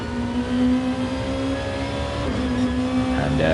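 A racing car engine revving hard in a Super GT video game race, heard from on board: a loud, steady, high-pitched drone with rising and falling pitch as the car shifts and accelerates, with no talk.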